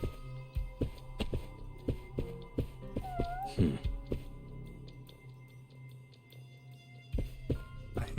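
A cat in the video game Judgment meows once, a short rising-falling call heard under game music and scattered clicks and footstep-like taps, with someone talking briefly.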